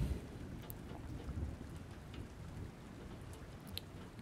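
Light rain falls in a soft, steady patter with scattered nearby drops, faint and continuous throughout.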